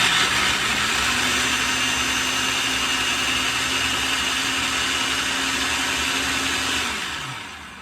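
A food processor chopping coconut whirs loudly and steadily for several seconds before the motor winds down and slows to a stop.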